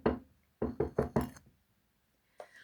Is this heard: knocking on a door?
yes